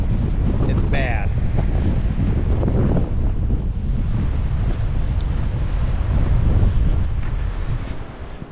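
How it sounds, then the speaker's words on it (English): Strong gusting wind during a high wind warning on a snowy highway roars continuously and loudly across the microphone, with a deep buffeting rumble that never lets up. "We're in a high wind warning until midnight tonight"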